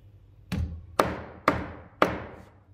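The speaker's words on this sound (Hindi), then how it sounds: "आप चाहें तो उसमें हथौड़ी का उपयोग भी करके उसे दबा सकते हैं थोड़ा सा" A hammer taps a stack of brass and metal coins four times at an even half-second rhythm, each a crisp close knock with a short ringing decay, alone without speech.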